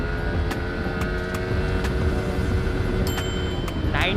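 A Yamaha R15 V3 motorcycle runs at speed in a top-speed test, a steady loud engine drone with wind roar and brief higher whines, no talk.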